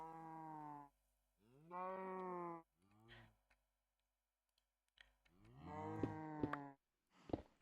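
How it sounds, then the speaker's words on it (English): Cows mooing in the video game Minecraft, several long, drawn-out moos in sequence with short gaps between them, fairly close and clear, with a few faint clicks. "That means the other side has more cows."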